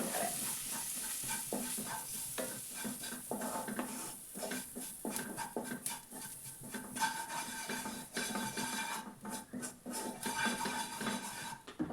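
Ginger and garlic frying in a pan for chicken curry sizzle softly while a spoon stirs and scrapes, giving quiet irregular scraping taps over a steady hiss.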